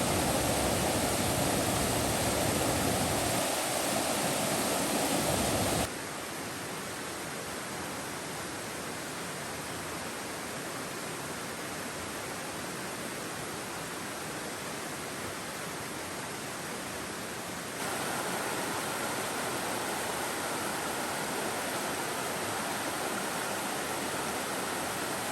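Forney Creek, a mountain stream in the Great Smoky Mountains, rushes steadily as a dense, unbroken wash of water noise, with a louder stretch at the start and end and a quieter middle section; no voices.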